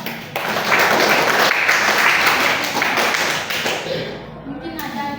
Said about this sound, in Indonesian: Kita beri tepuk tangan untuk Ibra.